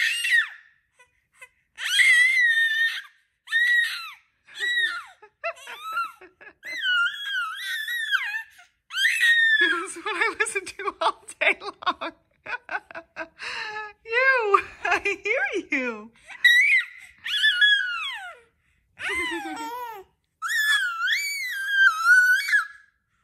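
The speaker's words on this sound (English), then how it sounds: "She just screams the whole time." A baby girl screams and wails during tummy time, with repeated high, strained cries and shrieks broken by short gasping pauses, close and loud, continuing for the whole stretch with no adult speech.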